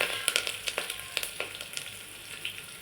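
Curry leaves and garlic frying in hot oil give a bright, crackling sizzle with rapid pops and spits, loudest in the first half and then settling into a steadier hiss.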